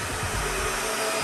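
A hair dryer running as part of a stage setup with black lights and a fog machine, giving a close, loud, steady whirring blow for about a second with no talk.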